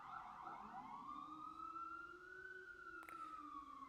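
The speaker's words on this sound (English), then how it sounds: "Here comes another siren." A siren wails in the distance, its pitch sliding up and slowly falling in a long sweep over steady background noise.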